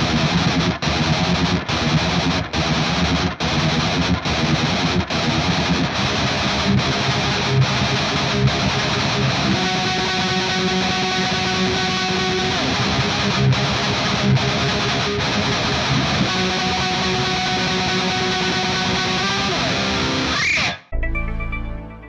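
Song from Wisconsin Death Trip: a heavy riff of down-tuned distorted electric guitar chugging in low C, dense and loud with steady rhythmic stabs, ending in an abrupt cut-off.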